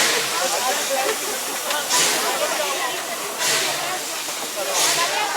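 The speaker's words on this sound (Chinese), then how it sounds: "火车头呢在加水。" A steam locomotive hisses loudly while taking on water, a broad rushing whoosh with periodic surges and swells, close by, with a voice talking over it.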